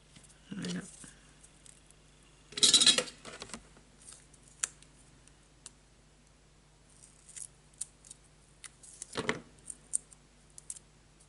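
Scissors snip adhesive tape in a few short crisp cuts, with scattered light clicks and rustles around them, heard close up in a quiet room during card-making.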